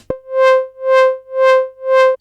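A sustained synth pad made in Serum swells and fades in a slow, even pulse from an LFO on its filter, about four times, its bright tone opening and closing with each cycle.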